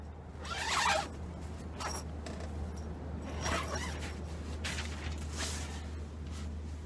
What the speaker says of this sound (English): zipper on the outside.